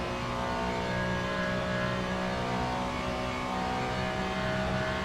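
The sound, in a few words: Ferrari GT3 race car engine, Le Mans Ultimate video game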